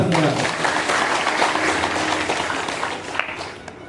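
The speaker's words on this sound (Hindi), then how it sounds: "ताली बजाइए फिर दोबारा।" A crowd at a Shiv Mahapuran katha recital claps together in a broad, continuous wash of applause that gradually fades toward the end.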